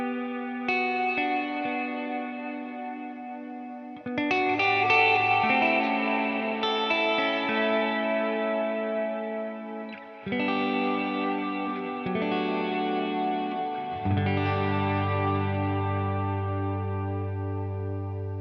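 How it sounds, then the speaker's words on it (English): Electric guitar through the Neural DSP Archetype Abasi plugin with reverb added, playing sustained chords and low notes in separate phrases, each washing out into a long, lush tail of ambience; no voices. "Let's go to our time-based effects. Let's add in some nice reverb."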